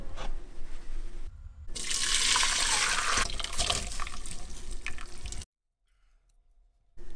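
Cooked shrimp are drained, water pouring in a strong steady rush into a sink, with a short break and a sudden stop near the end leaving near silence.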